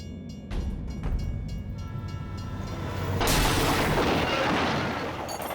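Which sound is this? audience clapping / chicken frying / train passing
train passing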